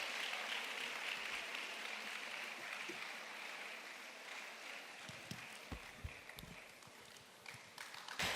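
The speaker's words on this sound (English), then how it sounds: "Can we keep the applause going?" Conference audience applause carrying on, a broad steady clatter of many hands that thins toward the end, with a few low bumps and handling noises near the close.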